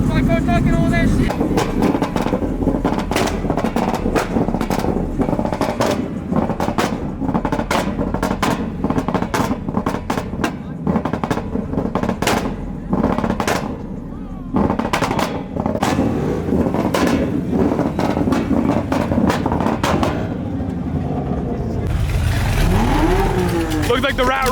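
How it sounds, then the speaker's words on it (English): A loud rat rod leaves a car show, its engine barking through repeated sharp revs and pops before pulling away, with people talking and shouting nearby over the exhaust. "Looks like the rat rod's rolling out."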